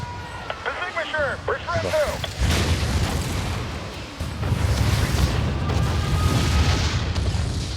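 Booming explosions and gunfire from the video game Spore rumble continuously, with heavy impacts after a brief quieter start, while a person speaks over the action.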